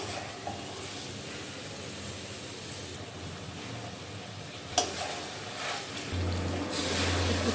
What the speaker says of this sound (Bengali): ওই মশলাতেই লতিগুলো কষিয়ে নেব।